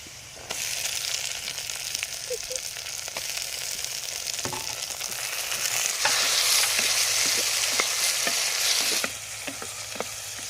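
Tomatoes fry with onions and chillies for egg podimas, an even sizzle that grows louder midway, broken by repeated clicks of a spoon stirring the pan.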